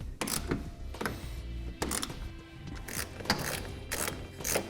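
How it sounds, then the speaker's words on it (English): A bolt is tightened on the front tensioner of an Access TonnoSport soft roll-up tonneau cover on a 2012 Chevrolet truck, giving a series of short ratcheting clicks at an uneven pace, fairly close. "we're going to tighten up the front bolt on our tensioner"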